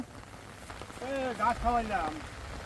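Rain falls on a rural village in Raghunathpur, Sirajganj, a soft, steady patter in the background while a voice speaks briefly in the middle.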